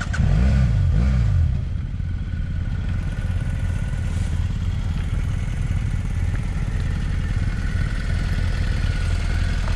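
A motorcycle engine revs hard while the bike crosses slick water, with a loud throttle burst early that settles into a steady, rough running drone for the rest of the clip.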